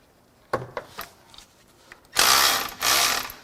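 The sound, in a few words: ratchet wrench loosening an alternator bolt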